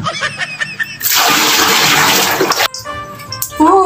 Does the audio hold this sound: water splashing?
yes